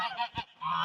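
A few loud, nasal honks from ducks close by, quick bursts with brief pauses between them.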